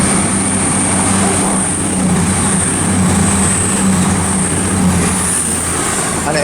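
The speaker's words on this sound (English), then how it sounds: "passing through now is going to be the last train in this video. It's a 700, a 222 even" A Class 222 diesel unit running from Sheffield to London St Pancras passes steadily through Luton Airport Parkway station, a loud sustained roar with a high whine and no break in the sound.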